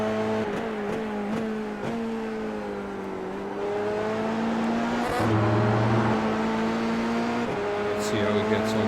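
A Dallara F3 race car lapping Okayama Circuit in a racing sim, its engine holding a steady high drone with pitch rising through the gears and brief dips at shifts, continuous throughout.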